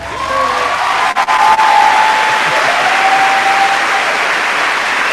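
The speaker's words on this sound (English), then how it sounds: "the crowd goes wild" A crowd cheering sound effect plays loud and steady, a continuous wash of applause and whoops that holds for several seconds with a few brief dips.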